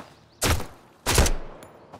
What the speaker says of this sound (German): Ein Schuss.